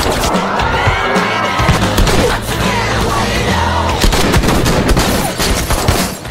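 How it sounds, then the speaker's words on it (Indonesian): A film gunfight between two rival gangs: dense, loud and continuous volleys of shots with crashes and a busy mix of action noise, never letting up. "Dan terjadilah baku tembak antara kelompok Staska dan kelompok Golden Paul."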